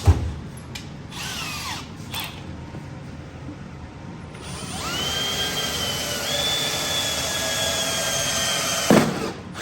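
A power drill bores through metal while fitting an exhaust tip to a 4th-generation Cummins truck, whining steadily through the middle and end of the stretch, with brief motor bursts and clatter near the start and a sharp knock near the close.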